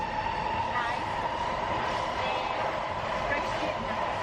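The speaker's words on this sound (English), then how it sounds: "On the metro now." A metro train in Washington DC riding on its rails, heard from inside as a steady, loud, continuous rumble and hum that carries on without a break.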